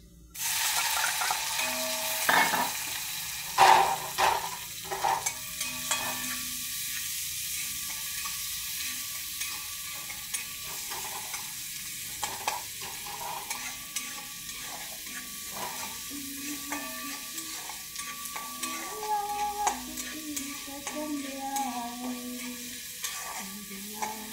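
Chopped onion and tomato sizzle quietly in a hot pan while being stirred now and then, with soft scraping and crackling over a low background for the whole stretch.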